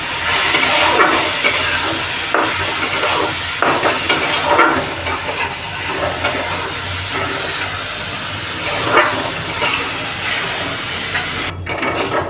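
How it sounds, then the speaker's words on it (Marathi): Basmati rice frying in a pan, a loud and steady close-up hiss and crackle with spatula stirring that rises and falls in rhythmic scraping bursts, with no talking. "तांदूळ थोडंसं फ्राय करून घेऊ"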